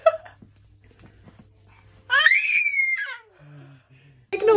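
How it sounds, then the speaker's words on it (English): Five-month-old baby girl lying down, letting out a high, drawn-out happy scream near the middle, with softer babbling sounds around it and someone talking in the background. "Watch her scream."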